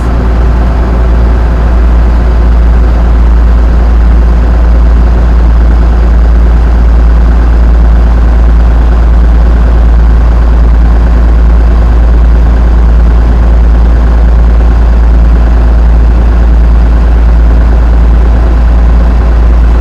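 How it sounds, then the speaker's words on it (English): A bus engine runs during a Texas CDL pre-trip air brake check, producing a loud, steady, heavy low drone that holds nearly constant throughout without breaks. "I will continue to accelerate till it reaches between 90 and 120 in less than 45 seconds."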